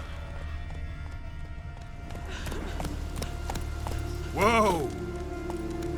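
In The Witcher 3, a galloping horse beats out rapid rhythmic hoofbeats under a rider urging it on, and a brief horse whinny-like cry rises near the end.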